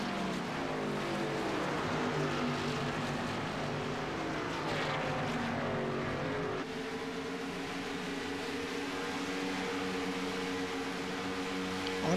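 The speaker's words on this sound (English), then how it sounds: "we have 8 cars still chugging around this speedway here" Stock cars racing around Chicagoland Speedway in a racing sim, a continuous droning engine roar with shifting pitch as cars pass and change gear, steady and loud with no voices.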